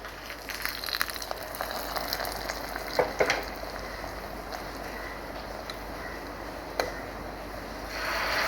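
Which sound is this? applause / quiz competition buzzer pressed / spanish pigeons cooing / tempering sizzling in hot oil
tempering sizzling in hot oil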